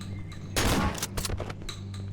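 A shotgun blasts point blank in the Cry of Fear horror video game, one loud sharp report followed by a few shorter cracks in quick succession over a low background drone.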